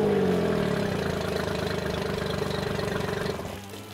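A four-stroke EFI outboard motor runs steadily at idle close by, a continuous mid-pitched engine drone with a faint knocking pulse that drops slightly in level near the end.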